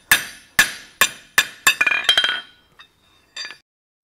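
Blacksmith's hammer lightly tapping metal, about five evenly spaced bright, ringing clinks followed by a quicker flurry of small taps and a couple of faint later ones, close and clear.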